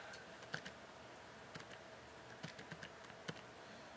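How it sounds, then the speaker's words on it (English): Quiet, steady typing on a computer keyboard while filling in form fields, irregular soft key clicks with a few sharper taps, close by over a faint background hiss, no talking. "You type in your name."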